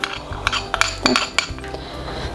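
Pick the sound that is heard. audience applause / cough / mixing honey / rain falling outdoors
mixing honey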